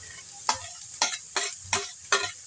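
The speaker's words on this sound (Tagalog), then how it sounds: "Haluin natin. I-mikos-mikos na natin to." Dabong (banana heart) with sardines is stirred in a frying pan, five evenly spaced scraping strokes over a soft sizzle, close and clear with no talk.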